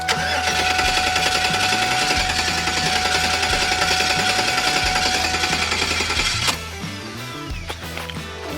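A modified 800-horsepower Shelby GT500 V8 turns over and rumbles to life on its first start, a loud, steady mechanical roar with a harsh rattling texture that drops to a lower, uneven idle near the end.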